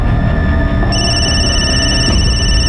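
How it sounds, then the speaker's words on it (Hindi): A telephone rings steadily and loudly with a high, sustained electronic tone over a low rumble, the ringing continuing throughout. "ये किसका फोन आ रहा है बार बार?"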